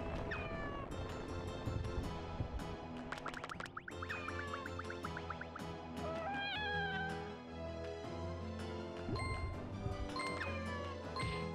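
Repeated cartoonish cat meows from a video game ring out over constant game music, with several rising and falling calls in quick succession, loud and close.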